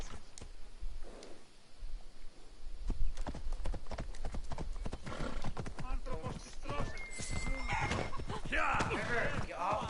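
Horse hooves clip-clop on the ground in Assassin's Creed Odyssey, a run of sharp irregular hoof strikes with an occasional whinny, mixed with game sounds and bits of talk.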